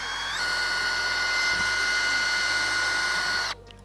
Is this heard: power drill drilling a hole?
yes